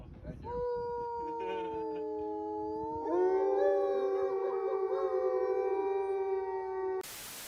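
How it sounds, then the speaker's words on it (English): Wolves howl in long sustained, gently rising tones, one voice joined by several more in a layered chorus partway through, fairly close and clear, ending abruptly in a short burst of static. "They also howl to mark their territory, and sometimes they just do it for pack bonding."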